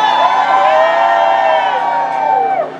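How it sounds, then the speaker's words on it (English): A crowd at a wage parity march lets out a loud, sustained cheer of overlapping shouts and whoops, close and intense, tapering off at the end. "I don't think you gave them a good enough cheer."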